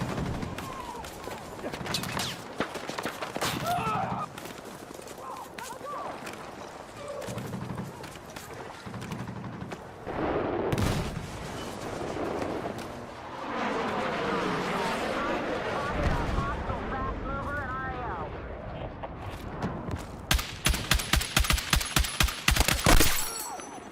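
Rapid bursts of video game gunfire crackle in short volleys, with a sharper string of close, evenly spaced shots near the end, under a player's excited talk.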